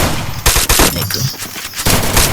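Rapid gunfire from a mobile battle-royale video game, loud bursts of automatic shots with brief gaps, repeating across the whole moment with no talk over it.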